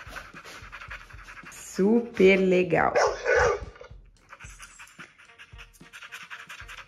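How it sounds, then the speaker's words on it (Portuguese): A small virtual dog in Google's 3D augmented reality view, its panting, yipping barks bursting out loudly in the middle of the clip, with a person talking before and after. "Coloquei um cachorrinho aqui agora e ele tá latindo."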